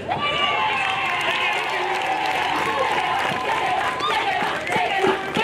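Crowd applause and cheering at an outdoor CCM political rally in Rufiji, Tanzania, as a government minister stands for recognition; steady, dense clapping fills the whole stretch with a loud public-address voice speaking over it.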